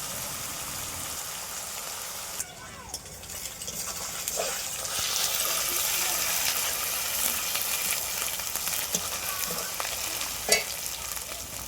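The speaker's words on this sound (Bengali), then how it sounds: "রসুন বাটা দেওয়ার পর আমি ততক্ষণ পর্যন্ত নাড়ব যতক্ষণ না পর্যন্ত রসুনের কাঁচা গন্ধটা চলে যায়" Garlic paste frying in a pan crackles and sizzles steadily while being stirred, with scraping strokes, a brief dip early on and a sharp knock near the end.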